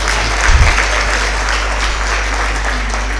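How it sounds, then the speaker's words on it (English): A crowd at a Public Relations Institute of Southern Africa event applauds the chairperson with sustained, even clapping throughout, over a low steady hum. "Just give him a big round of applause"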